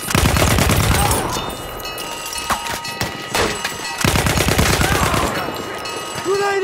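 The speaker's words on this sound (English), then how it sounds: "Look out! Machine gun!" Bursts of machine gun fire in the video game Battlefield 1, loud rapid automatic volleys broken by pauses and single thuds, with shouting voices mixed in.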